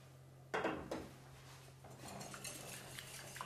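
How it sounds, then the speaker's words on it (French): A utensil clinks against a bowl, then stirs egg yolks loosened with a little milk for pastry cream, giving a sharp scrape followed by soft, steady mixing over a low hum. "vous brassez un tout petit peu vos œufs, vos jaunes, vous détendez légèrement les jaunes avec un tout petit peu de lait"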